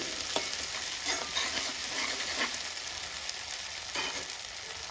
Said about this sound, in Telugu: అల్లం పేస్ట్ వేసిన తర్వాత ఒక్క నిమిషం బాగా మిక్స్ చేసుకొని పచ్చివాసన పోయేంత వరకు ఫ్రై చేసుకుంటే సరిపోతుంది